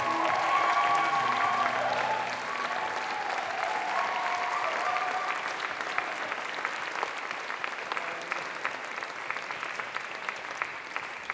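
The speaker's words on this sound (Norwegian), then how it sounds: "utbringe en ny applaus til han gjennom denne prosessen" Sustained applause from a jazz concert audience in Oslo, a dense wash of many clapping hands that starts full and gradually thins into scattered claps, with faint voices at the start.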